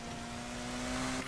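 A car engine in Need for Speed Heat holds a steady, humming tone for a brief moment during a drift, faint and fairly distant.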